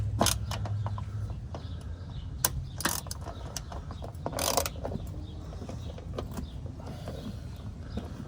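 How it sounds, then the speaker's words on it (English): Someone uses a ratchet to loosen bolts on the underside of a 2005 Mercedes-Benz CLK500 during an oil change. Quick bursts of ratcheting clicks come close up, mixed with scattered metallic clatter. "you're gonna need a ratchet"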